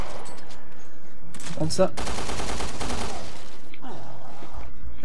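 Shotgun fire in Resident Evil Revelations 2 lands as a sharp, loud blast followed by a roaring burst of gunfire for about a second, with someone speaking briefly and quieter game sounds on either side.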